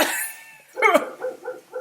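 A dog barks a few times in a home while someone nearby coughs and the family talks, the short barks following in a quick uneven series.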